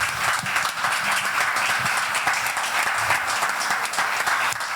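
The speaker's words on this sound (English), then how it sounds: "let's give everyone a round of applause" A room of attendees at a Colorado GOP chairman candidate forum claps steadily, a full, sustained round of applause from many hands, fairly close and even throughout.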